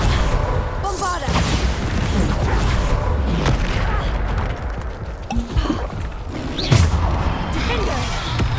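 Bombarda blasting spell in Hogwarts Legacy combat, several heavy booms and crashes amid other spell effects, loud and close, with voices calling out between the blasts.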